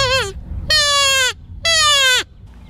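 A handheld predator call blown to imitate a fawn or baby calf in distress gives three drawn-out, wavering bleating cries with short gaps between them, loud and close.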